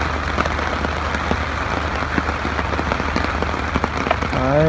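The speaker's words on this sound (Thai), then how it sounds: "ฝนมาแล้ว" Steady rain falls outdoors during a fishing trip, a dense, continuous patter of drops close by with scattered sharper splats throughout, and no voices over it.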